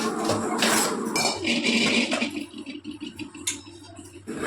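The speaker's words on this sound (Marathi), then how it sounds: "एकदा भांडी घासून झाली की लगेच पुसून मी ठेवते" Dishes, pots and utensils are scrubbed and washed, with close clattering, clinking metal and running water, busy at first and then thinning to scattered knocks and clinks.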